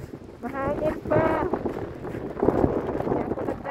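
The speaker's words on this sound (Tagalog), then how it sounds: "Mahangin pa." Strong wind buffeting the microphone during a Montreal snowstorm, a steady close roar that rises and falls in gusts, with a person talking over it.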